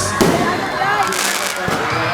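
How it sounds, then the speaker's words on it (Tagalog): Fireworks crackle and pop near and far amid crowd noise at a barangay festival awarding ceremony in Lapu-Lapu City, with a few sharper bursts standing out over the background chatter. "Oy, fireworks! Fireworks display!"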